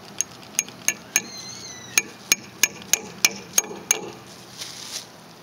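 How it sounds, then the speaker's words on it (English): Tacks being driven with a metal pipe used as a hammer, about a dozen sharp ringing metallic strikes in a fairly even rhythm, close and loud, followed by a couple of softer knocks. "Use a pipe for a hammer."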